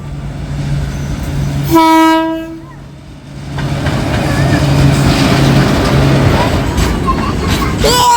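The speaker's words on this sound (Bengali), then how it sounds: "এ তো মালগাড়ি" A goods train's horn blasts loudly once and close by, a steady harmonic tone, over the continuous rumble of freight wagons rolling past a station at night; brief voices in the background near the end.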